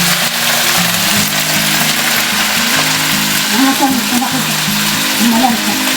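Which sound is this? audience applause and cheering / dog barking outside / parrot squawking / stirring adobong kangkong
stirring adobong kangkong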